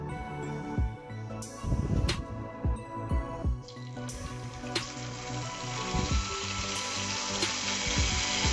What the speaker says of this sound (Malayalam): ഇനി ഇതിൽ നിന്ന് എടുത്തിട്ട് നമ്മൾ ഫ്രൈ ചെയ്തെടുക്കാൻ പോകണം